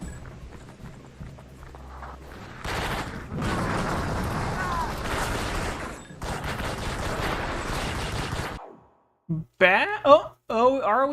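Video game explosions roar as loud, sustained, noisy blasts across several seconds, fading into a short pause before brief voices or game sounds return at the end.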